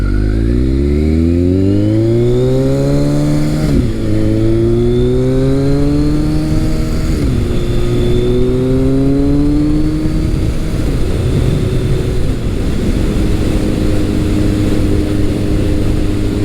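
A Kawasaki ZRX1200R motorcycle engine revs while riding, rising through the gears in loud, steady climbing pitches with brief drops at each shift, close and continuous, with no speech.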